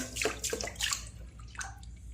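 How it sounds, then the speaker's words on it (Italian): Water splashing and running in short bursts for wet shaving, with bright spattering hiss, then trailing off into quieter trickles. "Mettiamo l'acqua"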